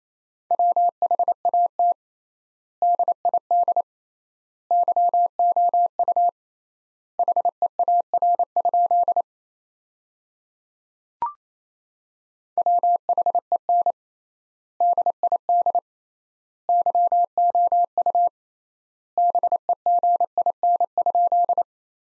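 Morse code keyed at 28 words per minute, a steady single-pitch tone beeping in rapid dot-dash groups with wide gaps between words, spelling out a sentence; clean and alone with a brief click partway through.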